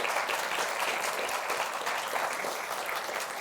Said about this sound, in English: Please, everyone, give them a round of applause.